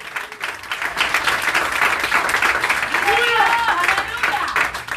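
Church congregation applauding during a service in Tampa, Florida, sustained loud clapping from a crowd mixed with cheering voices and a few shouts, lasting throughout.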